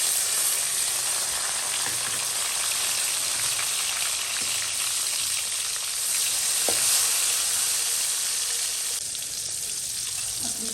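Chopped tomatoes and asafoetida frying in hot oil, a dense, steady hiss and crackle close by, with a few faint clinks of stirring.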